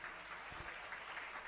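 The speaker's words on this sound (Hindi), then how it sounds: "तालियां बज गई।" An audience at a live Jain religious discourse in Shirpur, Washim, Maharashtra breaks into steady, dense clapping that fills the whole moment at an even level, with no voices over it.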